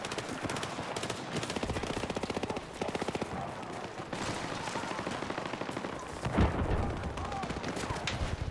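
Video game weapon fire during an online shooter match: sustained rapid automatic bursts, dense and continuous, with one louder impact partway through, loud and up front.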